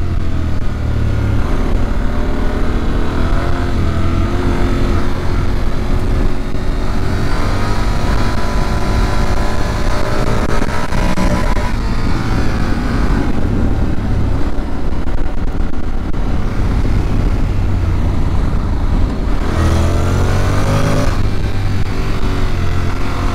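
A new Honda X-ADV engine roars steadily up close at Interlagos circuit, its pitch climbing in repeated sweeps as it accelerates through the gears, with wind rush and no talking.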